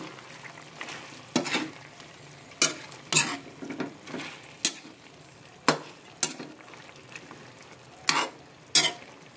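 Long beans (sitaw) being stirred in a frying pan for chicken adobo, with a low sizzle under about a dozen sharp, irregular scrapes and knocks of the spatula against the pan.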